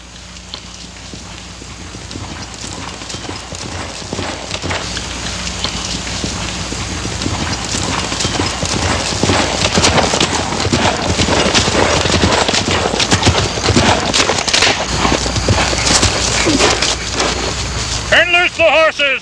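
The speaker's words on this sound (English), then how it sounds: "The horses!" Horses gallop in a battle film, a dense rush of hooves that builds steadily louder over about twenty seconds, with a voice calling out near the end.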